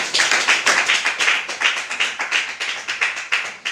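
A church congregation claps in rhythm, a steady, close and lively beat of many hands keeping time together with no talking over it.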